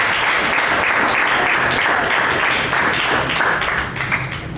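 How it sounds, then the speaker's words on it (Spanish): An audience at a secondary-school debate applauds the students: dense, loud, continuous clapping that holds steady for several seconds, then starts to thin out near the end. "aplausos para la intervención de los estudiantes"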